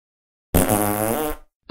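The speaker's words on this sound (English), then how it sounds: "They'll be farting in a minute, watch out." One comedic fart sound effect, attributed to doves that have eaten Brussels sprouts, plays loud and close as a buzzy, blubbery blast lasting under a second, starting abruptly after silence and ending with a short tail.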